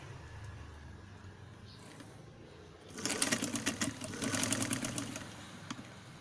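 A sewing machine runs a seam on a blouse sleeve, starting up after a quiet stretch and then whirring in a fast, close, rattling burst for about three seconds.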